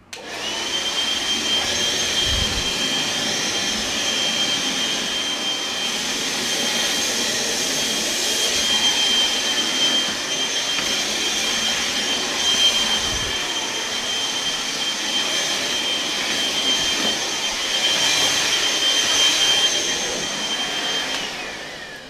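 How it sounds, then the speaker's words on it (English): A Bauer 20V cordless handheld vacuum runs steadily with a high whine and airy rush, close by, with no talking over it. "being able to go around and vacuum and get cobwebs and clean baseboards off"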